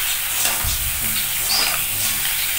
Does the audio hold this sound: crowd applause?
no